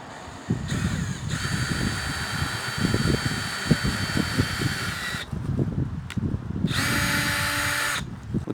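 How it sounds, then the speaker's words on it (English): A power drill whines in two bursts while drilling a small pilot hole into plastic, a long run followed by a shorter one, with scraping and clattering underneath. "Get you a little drill bit with your drill and drill a little hole first"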